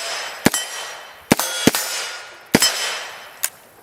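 Four sharp gunshot cracks from a 9mm pistol caliber carbine, spaced irregularly with short decaying tails, fairly close and alone without talk.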